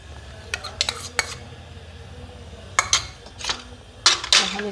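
Chicken pasta vegetable soup with beaten egg gently stirred in a pot, a spoon scraping and clinking against the metal in small clusters with quiet pauses between, close and clear.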